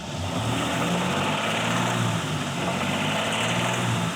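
A modified GMC Typhoon engine running loud at idle, a dense, steady droning roar with a low, even throb, close by and unbroken, with no voices over it.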